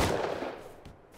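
A single gunshot in the survival game Rust opens loud and decays into a fading rumble, followed by a fainter second report shortly after.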